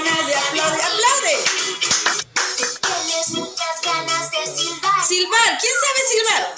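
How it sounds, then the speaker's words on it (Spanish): Young children clap their hands along to a Spanish children's song, the claps mixed into steady singing that runs throughout the passage. "No te quedes con las ganas de aplaudir. ¡Aplaude!"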